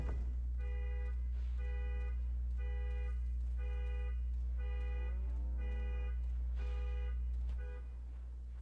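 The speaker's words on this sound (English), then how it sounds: "Someone's alarm is going on out there." Car alarm sounding outdoors at a distance, a faint repeating electronic tone pattern cycling over a loud steady indoor hum, stopping near the end.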